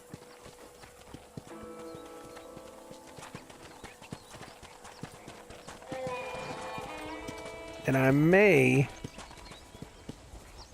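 Steady horse hooves clip-clop in an even rhythm through most of the clip in the video game Red Dead Redemption, with a brief whinny near the end and occasional speech alongside.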